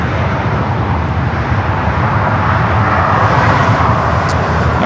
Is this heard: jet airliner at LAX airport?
yes